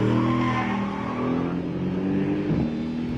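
A 2015 Mercedes-AMG GT engine pulls hard under sustained revving, loud and close, with a steady rising tone that dips briefly near the end, no voices over it.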